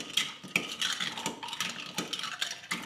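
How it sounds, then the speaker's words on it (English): A spoon stirs cranberry juice in a cup for a cranberry rosé spritzer, making a quick run of bright metallic clinks and scrapes against the sides, close up and with no talking. "And I'm gonna stir it before I add anything else, just so that it's easier to do it."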